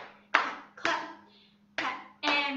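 Four separate, close hand claps or pats with uneven spacing and short decays, part of a Thanksgiving children's rhythm game, with a low steady hum under them.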